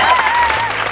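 College students at a junior college game show clapping together, a loud, dense burst of applause with a voice or tone riding over it.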